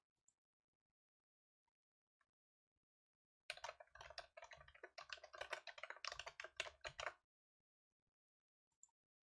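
Computer keyboard typing recorded close up as a sound effect, a quick run of crisp clattering keystrokes lasting about four seconds and set between stretches of near silence, with no voice.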